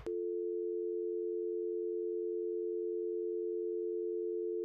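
After the caller on the other end hangs up, a telephone dial tone plays as one steady, unbroken hum, heard alone for several seconds.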